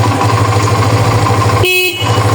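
A vehicle horn sounds loudly at a home doorway in a single sustained blast of under half a second, set against a steady low engine rumble that runs throughout.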